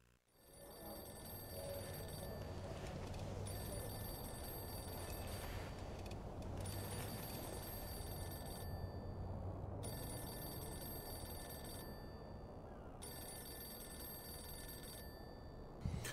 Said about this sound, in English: I wanted to let the phone ring just a little bit longer for suspense reasons.